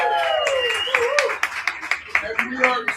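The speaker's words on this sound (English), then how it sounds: "everyone give a round of applause to the Jim Rummy staff who are holding us" Scattered claps for a restaurant's staff at a charity fundraiser cocktail event, a modest round of applause with uneven hand claps building through the room while a voice keeps talking over it.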